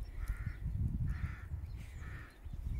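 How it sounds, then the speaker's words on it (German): Ravens caw three times at an even pace on a winter dog walk near a church, hoarse and moderately distant over a low rumbling background. "das Einzige, was man hört, sind die Vögel und die Rabe, die da krächzen."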